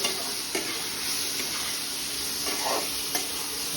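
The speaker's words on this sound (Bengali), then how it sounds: "রান্না চলছে আমাদের এই মুহূর্তে, রান্না করছে।" Spiced food with garam masala sizzles steadily in a hot pan while a utensil stirs it, producing a constant close frying hiss broken by occasional scraping strokes.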